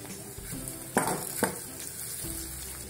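Tomatoes hit hot oil in a pan for dry bangda mackerel curry, giving a steady close sizzle with a couple of sharp spoon-and-pan clatters as they are stirred in.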